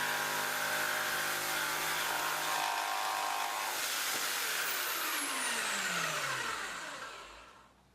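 A Bosch jigsaw saws through 50mm oak hardwood with a loud, steady buzzing whine, its pitch dropping as the motor winds down near the end and the sound fades out.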